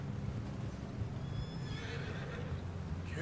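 A horse in the Western open-world video game Red Dead Redemption 2 lets out a long, high whinny over a steady bed of ambient game sound and low rumble.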